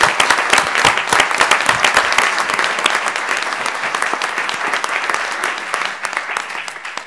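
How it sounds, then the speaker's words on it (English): A crowd at a town council meeting applauds with dense, steady clapping that gradually thins out toward the end. "I think a round of applause is in order."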